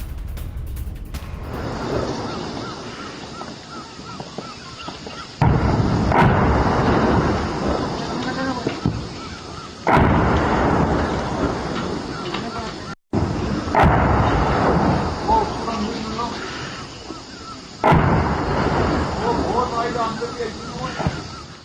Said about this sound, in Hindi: जल्द एलएसी पर गरजेंगी बोफोर्स तोपें